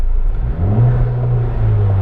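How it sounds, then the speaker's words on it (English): A Honda Civic Type R sits stationary while its engine revs up to a held, rev-limited drone, loud and close with a steady low rumble and no talking. "Unfortunately, this is as high as you can rev it"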